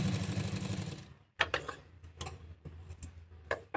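A sewing machine runs in a fast whirring burst while stitching a gown sleeve, stops, then gives several short clicking stitch bursts and taps, close and fairly quiet.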